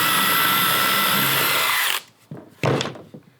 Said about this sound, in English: Sometimes when you're drilling holes, it's good to clear the hole occasionally while you're drilling through it